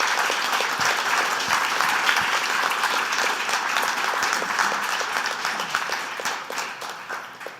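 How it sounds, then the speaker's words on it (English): Audience at a federal election all-candidates debate applauding the candidates, a dense, even patter of many hands clapping that holds steady and then slowly thins toward the end. "So just give them a round of applause for their great effort tonight."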